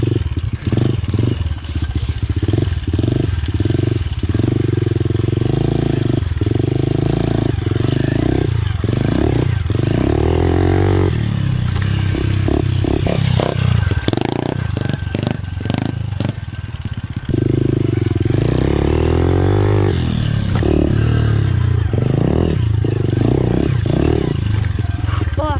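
A pit bike rides laps on a backyard dirt track, its small engine buzzing and revving up and down close by with repeated throttle bursts and rattling, and a person's voice heard over it.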